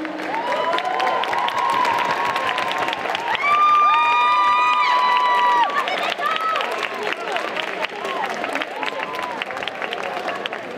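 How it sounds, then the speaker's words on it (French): Audience applause and cheering for cosplayers called onstage at a cosplay contest prize ceremony during Japan Manga Wave in Saint-Étienne, a dense crowd roar filling the clip while an amplified voice talks over it and whistles rise midway. "Sous vos applaudissements, bien entendu."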